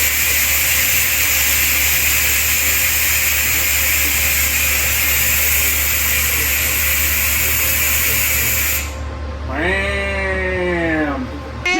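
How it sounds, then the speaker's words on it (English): Air ride suspension on a 1951 Ford lets out a long, loud steady hiss of released air that cuts off abruptly, followed by a brief whining, sweeping tone as the car settles. "And then we'll air it back down."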